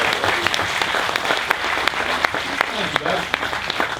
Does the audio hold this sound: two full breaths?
no